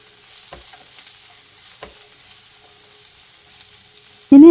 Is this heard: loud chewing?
no